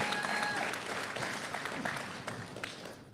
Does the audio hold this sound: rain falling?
no